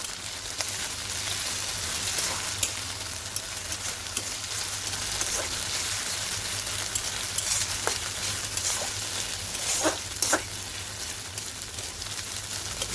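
Onion frying in a pan with garlic and ginger just added, a steady close sizzle throughout with scattered clinks and scrapes of the spoon stirring the mix, no talking.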